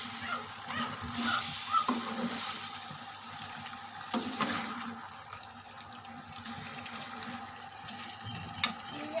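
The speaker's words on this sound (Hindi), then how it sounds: "चिकन जो है वो तेज़ आंच में मैंने 10 मिनट हो गए इसको भूनते हुए।" Chicken fries in a karahi over a high flame with a continuous close sizzle and crackle, and intermittent stirring scrapes and clanks against the metal.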